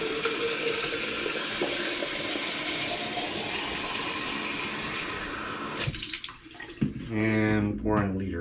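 Tap water runs loud and steady into a darkroom film processing tank as it fills, the broadband rush continuing for several seconds before the flow breaks up and a person's voice comes in near the end.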